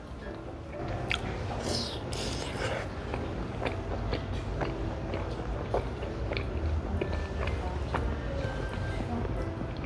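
Close, wet chewing and biting of rosé-sauce tteokbokki with soondae, squishy mouth sounds running continuously over a dense background din.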